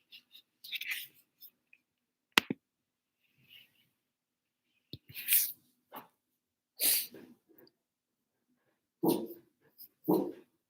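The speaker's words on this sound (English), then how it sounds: "Sorry if there's some barking. The mail lady's coming and the dogs are getting excited." Several household dogs barking excitedly as a mail carrier arrives, scattered short bursts of sharp barks, yips and whines separated by quiet gaps, fairly close to the microphone.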